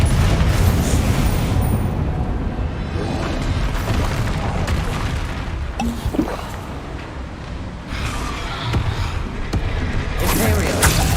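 Confringo fire spells detonate in Hogwarts Legacy combat as a dense, continuous roar of booming blasts and crackling bursts, loud and close, with several sharper impacts surging near the end.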